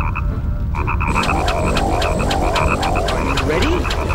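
A frog croaks repeatedly in the video game Nightmare Before Christmas: Oogie's Revenge, a loud, steady run of rhythmic ribbits heard alone over the game's ambient music.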